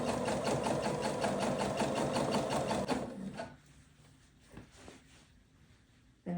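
A sewing machine stitches through layered quilt fabric with a fast, even mechanical whir for about three seconds, then stops, leaving faint handling noises and light thumps.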